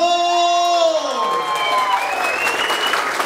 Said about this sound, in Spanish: Quiero que le den fuerte el aplauso